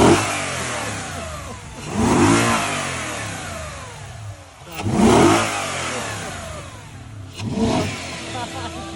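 A rebuilt Audi RS4 B6 V8 engine is revved three times in succession, each loud, close blip swelling and falling back toward idle with pauses between.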